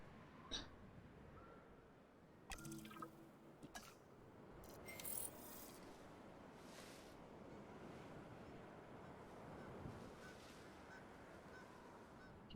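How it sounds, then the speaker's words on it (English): Canada geese honk faintly and intermittently as ambient sound in the video game Jurassic World Evolution, set over a steady wash of surf-like background noise. "You can hear the Canadian geese in the background."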